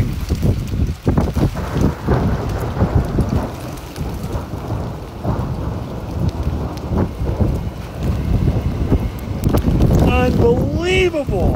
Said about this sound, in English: Looking for some more lightning and thunder.